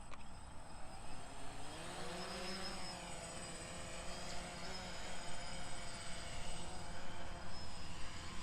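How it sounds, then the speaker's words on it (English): A DJI Phantom 1 quadcopter carrying a GoPro Hero 7 hovers and flies nearby, its propellers giving a steady, high buzzing whine with shifting pitch sweeps throughout, loud and continuous with no talking. "one more try with the Phantom 1, just see if we can get it up in the air for 30 seconds"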